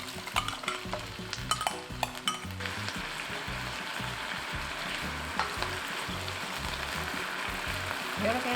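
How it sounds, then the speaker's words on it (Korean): Soy sauce seasoning hits a pan of fried chicken wings with a loud, steady sizzle and bubbling, plus a few sharp clatters and stirring at the start. "이렇게 기름 싹 제거해주시고 양념 부어줍니다."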